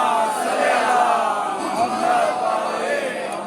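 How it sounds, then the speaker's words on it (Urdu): A congregation at a Chehlum majlis for Imam Hussain in Pakpattan recites durood aloud together, a dense, steady wash of many voices in unison that stays loud and continuous throughout. "مل کر کے بلند آواز سے درود پڑھیں آپ سب۔"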